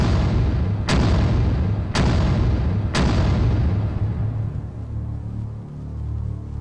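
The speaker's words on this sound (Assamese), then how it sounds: "এই বাজ পড়লো" Thunder strikes in a Bengali drama scene: three sharp, loud cracks land about a second apart over a deep, continuous rumble that slowly fades.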